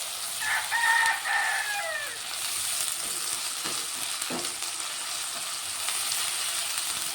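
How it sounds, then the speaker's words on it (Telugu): Onions sizzle steadily in a pan as ginger garlic paste goes in, a soft continuous frying hiss with a few stirring clinks and a rooster crowing faintly in the background early on. "ఉల్లిగడ్డలు అయితే ఫ్రై అవుతున్నాయి ఇప్పుడు నేనైతే కొంచెం అల్లం వెల్లుల్లి పేస్ట్ వేసుకుంటున్నా"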